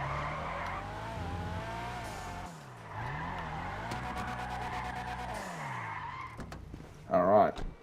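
A 6th-gen Nissan Laurel, the Annis Hardy in GTA Online, holds a steady engine drone while drifting, with shifting revs and a sharp tire squeal near the end; a voice talks over it.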